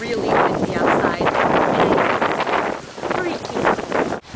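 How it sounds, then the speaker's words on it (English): Strong wind buffets the microphone in loud, rumbling gusts, with a voice talking faintly underneath. "I don't know if you can tell, but it's really windy outside."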